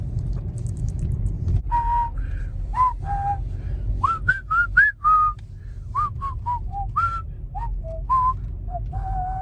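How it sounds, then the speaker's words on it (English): Short melodic human whistling, a run of rising and falling notes repeated in quick phrases close by, over a steady low rumble of traffic or engine noise. "get that whistle going."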